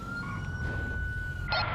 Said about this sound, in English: I'm going to fire up the siren here.